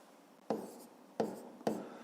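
Pen strokes on paper as a maths exercise difference is written out by hand, three short scratchy bursts of writing in a quiet room, close and fairly soft.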